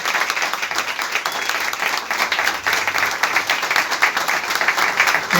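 Warm applause for the makers of a mural at a cultural center's anniversary event, many hands clapping in a steady, dense, lively stream at fairly close range, with no speech over it.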